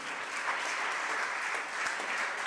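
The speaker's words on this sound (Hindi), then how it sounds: "उनके सम्मान में ताली बजाओ" An audience at a Jain religious discourse applauds with steady, dense clapping from many hands, sounding somewhat distant and holding even throughout without pause.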